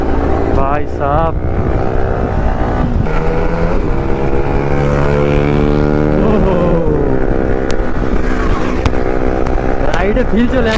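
A KTM Duke 390, an RS200 and other motorcycles on a group ride rev loudly and continuously nearby, their engine pitch rising and falling, with someone talking over them.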